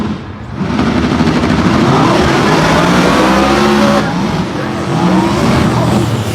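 Drag racing car launching hard down the track at a supercharged event, a loud sustained engine roar with tire noise that dips briefly midway then surges again, with a commentator talking over it.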